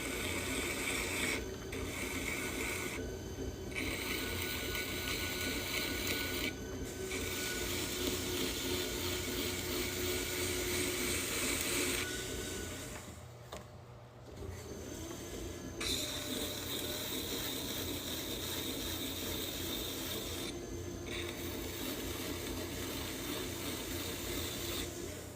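A clay pasta bowl is trimmed on a spinning pottery wheel, a continuous gritty scraping and mechanical hum with brief pauses and a short dip near the middle.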